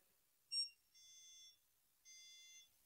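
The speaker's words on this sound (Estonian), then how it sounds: "2 lühikest piiksu ja 2 valge tule vilkumist." A bus ticket validator terminal gives one very short beep, then two longer electronic beeps with a pause between them, clean and alone.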